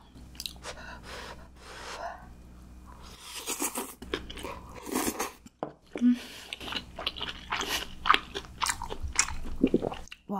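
Someone eats chewy cheese noodle tteokbokki close up, with steady wet chewing and biting, soft breaths and occasional brief vocal sounds between mouthfuls.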